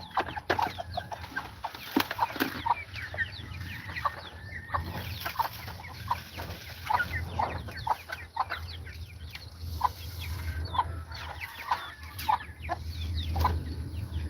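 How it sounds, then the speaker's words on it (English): Chickens in a coop cluck and croak repeatedly at close range, a busy overlapping chatter of short calls over a low steady hum. "we have a new adult chicken in here"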